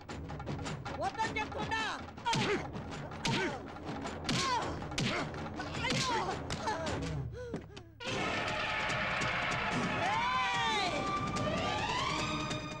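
Police shoes stomp hard on the ground in a comedy film scene, with heavy repeated thuds over siren-like music and voices, then the stomping gives way to the music alone.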